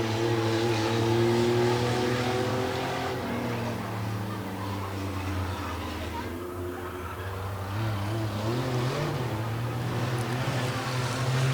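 Race cars circling an oval track at a feature race, a continuous engine drone with rising and falling pitch as they pass, steady and moderately distant throughout.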